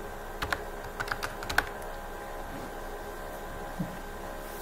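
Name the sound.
typing a password on a computer keyboard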